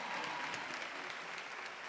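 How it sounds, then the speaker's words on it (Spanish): Dense, steady applause from a concert crowd, an even wash of many hands clapping with no breaks, fairly faint and distant. "¡Fuerte el aplauso!"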